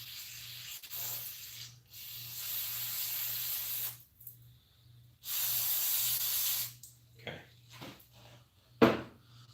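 Carburetor cleaner sprayed from an aerosol can in bursts of steady hissing, a few seconds each, separated by quiet gaps and followed by faint handling clicks and rustles.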